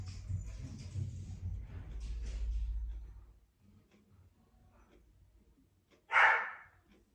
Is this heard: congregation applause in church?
no